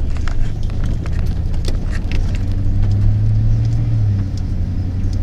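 A car travels along a road on an autumn outing, its engine and tyres giving a loud, steady rumble from inside the cabin with a droning low tone, and nobody speaking.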